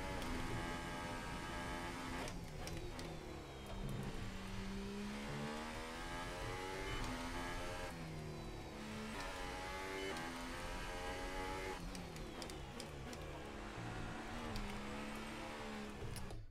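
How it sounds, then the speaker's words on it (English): An F1 race car engine in the F1 2018 video game revs and falls through repeated gear changes, with the pitch sweeping up and down as it downshifts. The engine is loud and continuous throughout, and there is no talk. "And now I downshifted too much."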